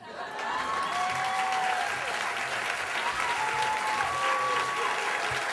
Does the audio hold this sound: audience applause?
yes